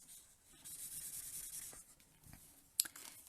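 Thick marker tip coloring across a card, a soft close scratchy rubbing of strokes with a brief tap near the end, faint and without talk.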